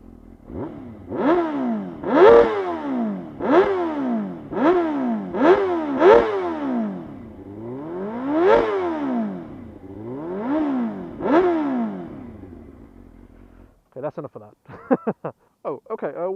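A Suzuki GSX-R 600 motorcycle with an unbaffled Akrapovic can exhaust fires up and is blipped through a string of sharp rising-and-falling revs, loud and close, before a short pause and a few choppy bursts at the end.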